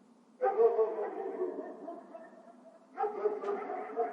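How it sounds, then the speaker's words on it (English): A dog barks in two short bursts, each one trailing off in a roomy, echoing tail, with a short quiet gap between them. "even though it had a dog barking"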